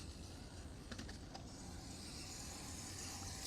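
An RC rock crawler on INJORA 1.3-inch 70mm Cling On tires drives over rocks, giving a steady, fairly loud whirring drone with a few faint clicks and no talk.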